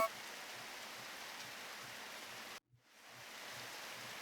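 Steady rain falls in a farming video game, a soft, even hiss with a faint rhythmic patter underneath that cuts out briefly and then fades back in.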